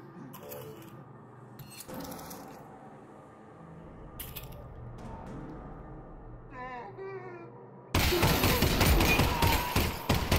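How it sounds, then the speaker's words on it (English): Video-game gunfire while killing zombies in Half-Life: Alyx in VR: scattered sharp shots and mechanical clicks, some creature wails, then a loud, dense burst of rapid fire over the final seconds. "This is how you kill zombies, Rambo style."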